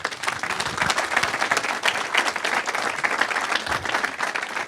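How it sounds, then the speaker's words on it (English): Town hall audience in Epping, New Hampshire breaking into sustained applause for a presidential candidate, steady dense clapping throughout, fairly loud and close. "Is that applause for the answer or for the Trump impersonation?"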